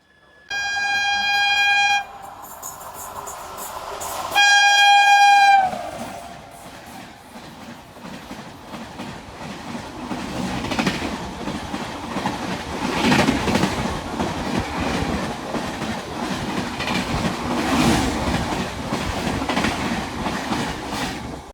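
A passenger train (No. 19259, Kerala to Gujarat) on the single-track Konkan Railway sounds two loud horn blasts, then rolls on with steady rumbling and rhythmic clickety-clack of wheels over rail joints, no voices.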